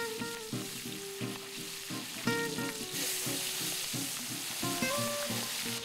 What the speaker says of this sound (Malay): hasil tangkapan udang tadi akan terus digoreng untuk dimakan bersama-sama penduduk kampung